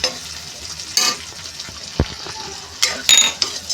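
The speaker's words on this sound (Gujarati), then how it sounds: "અને આપણે સરસ એને હલાવી નાખીશું" Spiny gourd kantola sabzi seasoned with chili, coriander-cumin and cilantro being stirred in a pan, a soft sizzle broken by a few sharp utensil scrapes and clinks against the metal.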